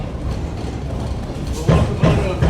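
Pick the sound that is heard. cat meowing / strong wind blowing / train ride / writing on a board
train ride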